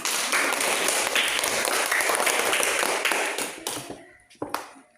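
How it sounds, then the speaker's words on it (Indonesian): A classroom of students applauds for one group, dense clapping that holds steady for several seconds, then thins into a few scattered final claps and taps. "tepuk tangan untuk kelompok 3"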